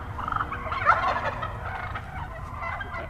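A wild turkey gives one loud gobble in open woods during turkey season, fairly close and alone with no other sounds.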